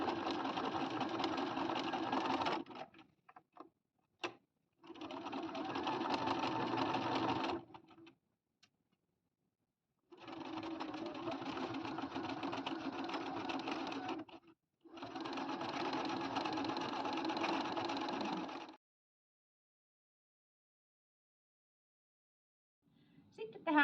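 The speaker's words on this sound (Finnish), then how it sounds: "kannattaa ommella aika hitaasti, koska täällä on nyt niin monta kangasta, että toi neula katkee" A sewing machine stitches slowly through many thick layers of hoodie fabric, running in four separate bursts of a few seconds each with short pauses between them, loud and close, with no talking over it.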